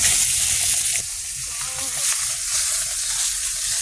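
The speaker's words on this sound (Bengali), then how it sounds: "মাছগুলো এক পিস করে এক পিস ফিরিয়ে দেবো এই ভাজা হয়ে গেছে মাছ" Fish pieces fry in hot oil while being turned one by one, giving a continuous bright hiss that briefly steps louder at the start, then settles into an even, close sizzle.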